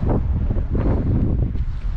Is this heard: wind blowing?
yes